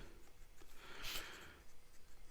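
A BENU Scepter III fountain pen with a medium steel Schmidt number 5 nib writing on paper, a faint soft scratch with one brief louder stroke in the middle, no talking.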